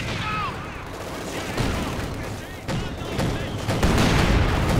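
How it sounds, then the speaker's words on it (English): Submachine gun fire in the World War II strategy game Company of Heroes 2, with dense, overlapping bursts of rattling shots mixed into a constant din of battle that grows louder toward the end. "Conscripts holding up with the submachine guns"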